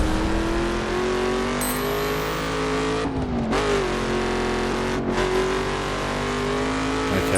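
Ford Mustang engine in The Crew racing game, revving hard with a steady, rising roar through gear changes, loud and close, with a couple of brief dips where the throttle lifts.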